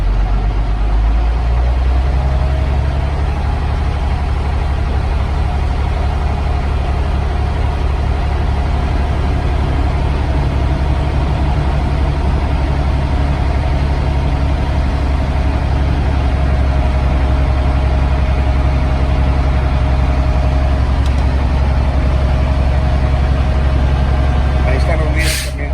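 A truck engine on a commercial-vehicle inspection in California revs up to about 1,500 RPM, producing a loud, continuous low rumble that holds steady and swells slightly throughout.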